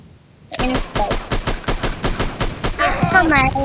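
Rapid gunfire from the online shooter game Strike Ops, a loud run of regularly spaced shots after a brief quiet start, with denser firing and game effects layered near the end.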